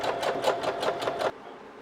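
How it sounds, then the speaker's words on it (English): A sewing machine zigzag-stitches the raw edge of fabric for a bonnet, its needle running in a quick, even, rhythmic chatter up close before stopping abruptly, with no voices. "And instead zigzag the raw edge by machine"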